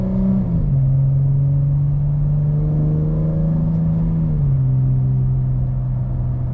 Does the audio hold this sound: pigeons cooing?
no